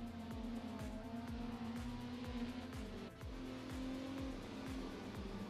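A Ford GT race car in the video game Grid Legends, its engine droning steadily close by while repeated gear shifts rise and drop in a quick rhythm, with tire noise underneath and no talking.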